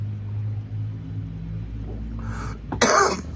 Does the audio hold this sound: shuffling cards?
no